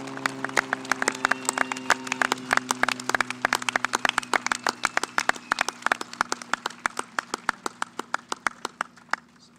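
An audience at the Silver Creek High School 2022 commencement in Colorado applauds the enlisting graduates and servicemen and women: dense, steady clapping from many hands carries on for several seconds over a low hum before thinning out.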